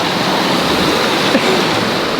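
A waterfall roars as a steady, dense wash of falling water close by, unbroken for the whole stretch, with a faint brief chirp or squeak near the middle.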